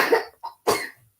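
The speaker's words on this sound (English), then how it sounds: "as you hear, she's coughing" A young girl coughs twice, close and abrupt, with a short gap between the dry bursts and quiet afterward.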